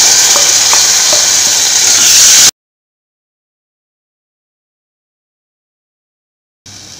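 Garam masala, turmeric and chili powder frying in hot oil for masala poori, a loud close hiss and sizzle that cuts off abruptly into silence, then briefly resumes.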